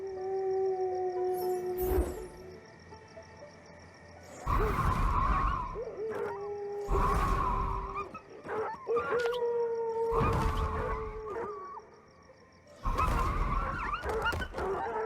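Dogs howling in the god game Sintopia, several long wavering howls rising and falling in separate bursts over a quiet background hum, fairly loud and alone without talk.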